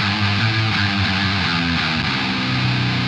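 Heavy distorted electric guitar through a humbucker plays a rhythmic riff by itself as the right track, dense and continuous with chugging low notes.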